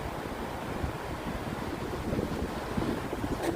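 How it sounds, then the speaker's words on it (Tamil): Strong wind roars across a beach with a steady whoosh of waves breaking beneath it, and gusts buffet the microphone continuously with no pause. "செம்ம காற்று இன்னைக்கு, கொஞ்சம் டஸ்ட்டும் இருக்குது சேர்ந்து."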